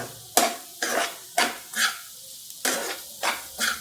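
Mutton lung pieces frying in a pan over a high flame, stirred in a regular rhythm of about eight scraping strokes, each bringing a burst of sizzle, close and fairly loud.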